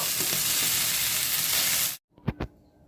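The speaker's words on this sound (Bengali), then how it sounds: "সমস্ত সবজিগুলো আমি ভালো করে একটু ভেজে নেব" Winter vegetables frying in a wok for veg dal, a loud continuous sizzle for about two seconds that suddenly cuts out, followed by two brief stirring clanks in quiet.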